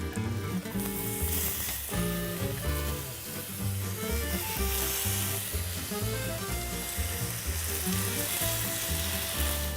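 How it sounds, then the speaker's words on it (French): Endives with a little brown sugar, salt and pepper sizzle steadily in a pan, a continuous close frying hiss layered with music and no talk. "Pour terminer notre cuisson des endives"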